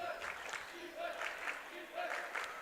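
Home student cheering section at a high school basketball game erupting for a senior guard's first basket, a sustained crowd roar with cheers and shouts swelling in waves, heard from a distance across the gym.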